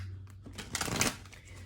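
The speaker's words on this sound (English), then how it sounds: "I'm gonna shuffle over here." Tarot cards are shuffled by hand at close range in a short, soft riffling burst that rises and then settles under a low background hum.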